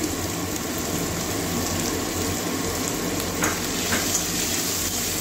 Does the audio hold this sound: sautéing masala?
yes